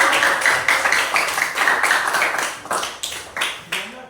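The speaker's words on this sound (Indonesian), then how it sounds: "beri tepuk tangan kepada kelompok yang keempat" Students in a classroom clap for the fourth group after its presentation, a close burst of clapping with sharp individual claps that thins out and stops in a few last scattered claps.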